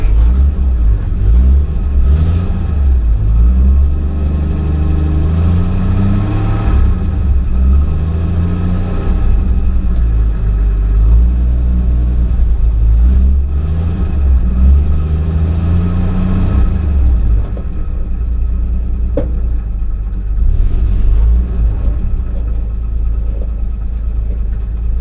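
A cold car engine idles steadily with the choke having no effect on its speed, a continuous low rumble close by that barely rises or falls across the whole stretch.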